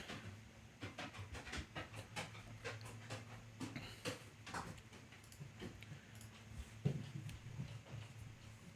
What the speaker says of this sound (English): A large dog panting and roaming around me at the moment.